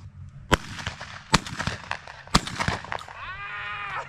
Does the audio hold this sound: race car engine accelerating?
no